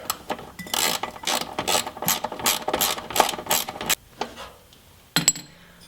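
Ratchet wrench clicking rapidly in uneven bursts as a 15 mm brake line fitting is tightened on a Jeep Cherokee XJ or Wrangler TJ, close and fairly loud, trailing off into a few final clicks after a short pause.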